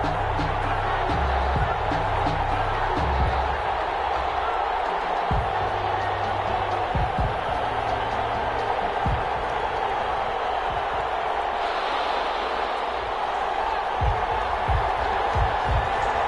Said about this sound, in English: This crowd is ready as their guys get set to match up between the Cleveland Browns and the London Monarchs.